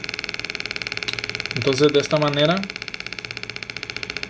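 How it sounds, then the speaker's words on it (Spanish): A homemade transistor oscillator circuit gives off a steady, rapid pulsing buzz like an idling motorcycle, continuous and moderately loud, briefly under someone speaking Spanish. "es un sonido que es casi similar al de una motocicleta."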